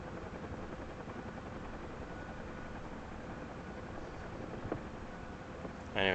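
A helicopter flies in the DCS flight simulator game, a constant low rotor and engine drone, steady and even throughout, with a brief click near the end.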